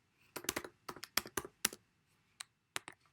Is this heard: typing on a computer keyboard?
yes